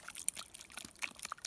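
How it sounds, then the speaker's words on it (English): Casting powder dissolves and fizzes in water while a Sasquatch track is being cast outdoors in the Adirondacks, giving a faint, crackly trickle of small bubbles and drips throughout. "just kind of dissolving in the water and bubbling up"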